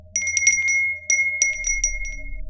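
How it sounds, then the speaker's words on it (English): A small bell hung above a roadside diner door jingles in several bright, ringing bursts, close and clear, with a low hum beneath. "The bell above the door jingled as I stepped inside,"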